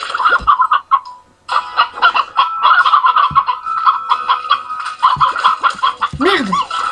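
Chickens in the video game Slime Rancher cluck and gobble in busy, overlapping bursts, loud and near, with a brief gap early on and a rising squawk toward the end.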